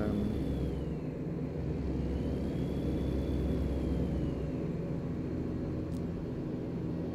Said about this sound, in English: Just watching the mirrors and watching for the trucks coming past